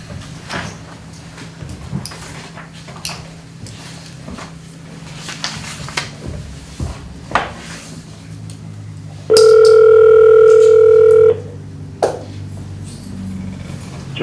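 A telephone call is placed during a city council meeting: soft background murmur and clicks, then a loud steady dial tone holds for about two seconds before cutting off, followed by quieter line noise.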